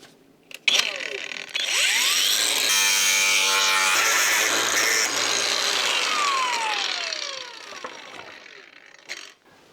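Power tool cutting away rusted body panel metal on an Opel Ascona under restoration, a loud sustained grinding and sawing whine lasting most of the stretch, rising and falling, close by with no talk over it.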